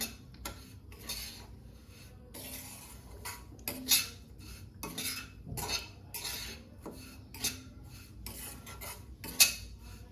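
A spoon scrapes and clinks against a pan while semolina and dry fruits are stirred and roasted in ghee over low heat, irregular metallic scrapes and taps repeating close by, with no talking.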